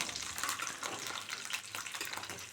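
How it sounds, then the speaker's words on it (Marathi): Spices for paneer masala frying in oil, a dense crackling sizzle that runs throughout with stirring bursts, close and fairly loud, no one speaking. "एक 5 मिनटं व्यवस्थित फ्राय करून घेऊया तेलामध्ये"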